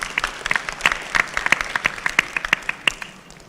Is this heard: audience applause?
yes